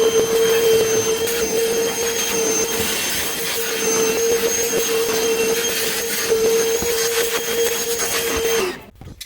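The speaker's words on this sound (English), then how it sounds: "Let me get my shop vac." A shop vac running loudly and steadily with a constant whine and airy roar, then switching off abruptly near the end.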